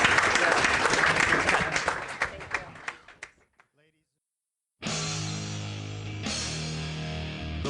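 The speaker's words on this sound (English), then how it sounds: "Please join me in a round of applause for Michael and Henry and Robin and Barry." An audience at an options-trading event gives a round of applause that tapers off into a few last claps and silence, then a music jingle starts.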